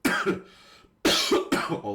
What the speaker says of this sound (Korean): 기침을 또 많이 해가지고